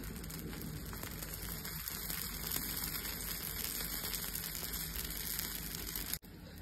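A dosa sizzles on a hot pan as ghee is poured around its edges, giving a steady, close crackling hiss like light rain that continues without pause.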